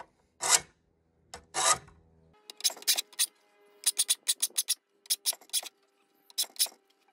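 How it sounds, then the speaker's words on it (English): A metal file rasping across saw-blade teeth, short scraping strokes in bursts, two slower ones then quicker repeated strokes, close and fairly quiet with no talk. "sharpen the metal until we get to about a 30-degree angle on each and every single one of these teeth"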